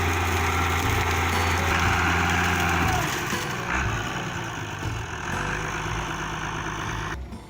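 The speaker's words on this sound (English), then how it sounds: "Wheel loader with log grapple, 220 HP engine." A 220 HP wheel loader fitted with a log grapple runs its engine with a steady, rumbling drone, shifting pitch and load partway through as the machine works, loud and close with no talk.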